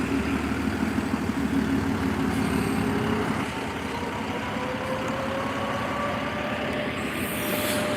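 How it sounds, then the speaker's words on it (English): A new MBTA New Flyer XDE40 city bus idles with a steady low drone, with the whirring hum of engine cooling fans that slowly rises in pitch. "You can already hear the engine fans from the new bus."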